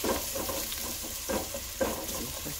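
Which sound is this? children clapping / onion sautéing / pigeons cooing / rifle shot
onion sautéing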